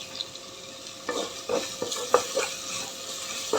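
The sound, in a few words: curry leaves added to cauliflower gravy in a pan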